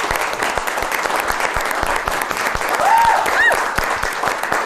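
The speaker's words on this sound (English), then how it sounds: "Take applause." Studio audience applause on a late-night talk show's final episode, steady sustained clapping with a brief whistle or whoop near the end.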